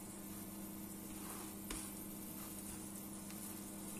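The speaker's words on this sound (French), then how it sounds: "J'ai fait une petite boule comme ça que je vais cuire à la poêle." A small ball of minced meat fries in a pan with a steady, faint sizzle and a low constant hum under it, plus a soft tap or two partway through and no speech.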